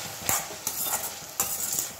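Potato fry tossed in a hot pan makes a close, steady sizzle, broken by three or four quick spatula scrapes as the pieces are mixed.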